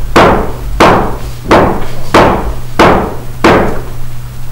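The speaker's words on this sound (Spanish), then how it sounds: "Los martillos." Steady hammer blows, six loud, close, evenly spaced strikes about two-thirds of a second apart, each ringing briefly, with no talk.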